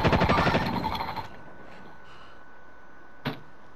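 A single sharp sniper rifle shot rings out in a multiplayer shooter game, a loud crack that decays into a quiet tail, with a brief fainter report following a couple of seconds later.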